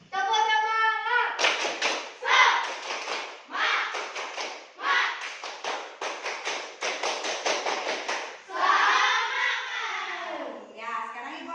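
Children at school perform a 'tepuk semangat' clapping chant, chanting in unison while clapping in quick rhythmic bursts. Claps come in rapid clusters between sung phrases, close and lively.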